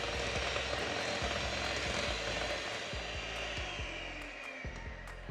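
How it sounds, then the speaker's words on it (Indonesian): An electric hand mixer beats margarine and sugar for cookie dough, giving a continuous, fairly close motor whine with faint scraping clicks against the bowl throughout. "Sekarang kita mixer sebentar campuran margarin sampai lembut,"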